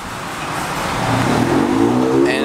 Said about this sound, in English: a pretty dope car leaving